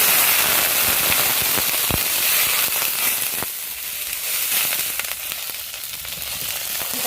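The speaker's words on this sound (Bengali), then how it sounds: "দেখো বন্ধুরা, কাঁচা লঙ্কাটা একটু হালকা হালকা ভাজা হয়েছে, বেশি ভাজিনি" Green chillies sizzle and spit in hot oil in a wok, a loud dense crackle close up with sharp pops and sputters, easing slightly toward the end, no voices.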